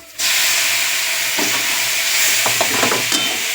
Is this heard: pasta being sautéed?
yes